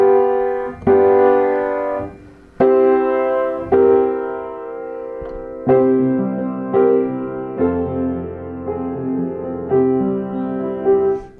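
Chords played one after another on a keyboard, each block struck and held so it rings out, several distinct chords in steady succession, clear and close with no talking.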